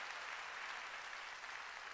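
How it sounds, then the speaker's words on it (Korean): A Korean church congregation at a Sunday worship service breaks into applause, an even, continuous roar of many hands clapping together, soft and somewhat distant. "박수"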